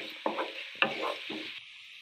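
Chopped onion and green chili are stirred in a pan, with three quiet spatula scrapes accompanied by soft sizzling.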